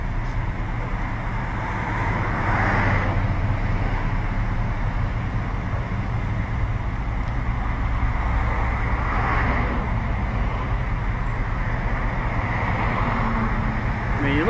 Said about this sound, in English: the traffic you're hearing here on Route 6